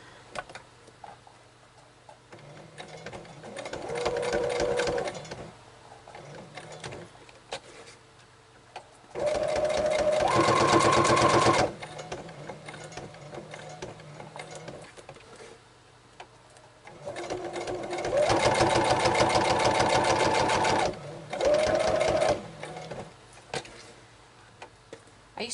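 Close by, a sewing machine stitches around small paper journal cards in several short bursts of rapid ticking clatter, separated by pauses where the machine rests, with no one speaking.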